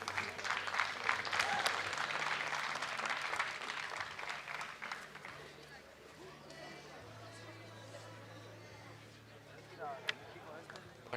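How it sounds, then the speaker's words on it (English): Teammates from a Belgrade club cheer and clap in the stands at a European club track and field meet in Castellón, with distant crowd applause and scattered claps under an announcer's commentary and steady background hum. "there's quite a few of the Belgrade team in the stands cheering on their teammate"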